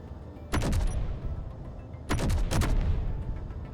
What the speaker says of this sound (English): Why is that shooting down?